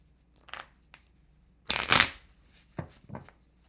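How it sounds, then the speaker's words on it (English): Tarot cards are shuffled close up in a few quick riffling bursts, one longer rustle in the middle and shorter flicks before and after, against near silence. "I'm getting to shuffle"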